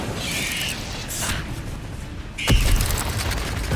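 The Incendio fire spell cast in the Hogwarts Legacy video game, a whooshing burst of flame that swells over steady game background noise and ends in a louder boom-like blast near the end.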